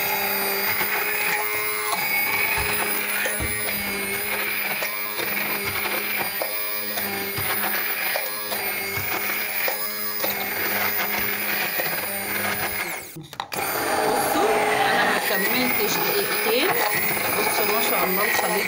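A blender beating white chocolate sauce, a loud steady motor whine running nearly throughout with a brief dip before it resumes, with a voice speaking over it.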